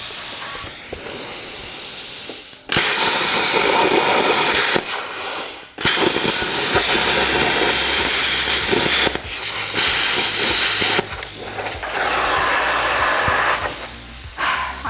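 A Hypertherm Powermax33 XP plasma cutter slices through 14 gauge scrap steel in three long bursts of loud, steady hissing roar, with short quiet gaps between them.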